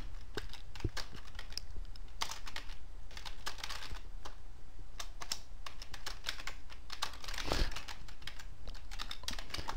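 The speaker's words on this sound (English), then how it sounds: "So I'll type in some text." Keys clatter on a computer keyboard in a quiet room, an irregular run of close, light taps and clicks typing text with no talking.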